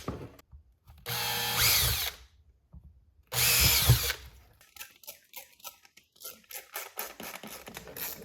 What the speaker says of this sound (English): I'm just starting with a little tiny baby screw or baby drill here.